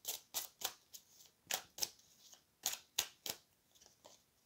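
Oracle cards being shuffled and drawn during a tarot-style horoscope reading: about ten crisp, close riffling snaps in an uneven rhythm, each a short papery burst with quiet gaps between and no voices.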